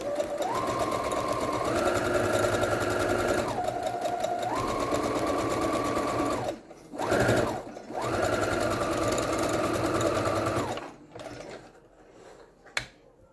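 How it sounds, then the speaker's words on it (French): A sewing machine stitches fabric face-mask pieces a centimetre from the edge in long continuous runs, its fast whirring hum rising and falling in pitch as speed changes, with a brief pause and a short burst before stopping; close and steady, no voices. "on va venir coudre à 1 cm du bord"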